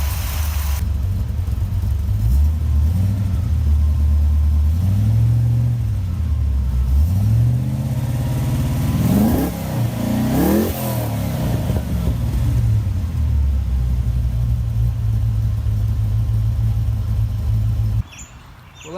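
A Holden HZ car engine with a newly fitted exhaust idles with a deep, throaty rumble, revving up several times in the middle before settling, then cutting off near the end.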